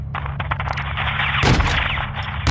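Close air support gunfire pounds a greenhouse in Call of Duty Modern Warfare 2 (2022), a loud, rapid stream of shots with a heavier blast midway through the short burst.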